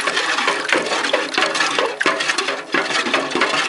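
Pickling cucumbers and salted water slosh inside a three-litre jar shaken by hand, a loud, close, continuous churning of liquid with rhythmic surges and knocks, and no voices.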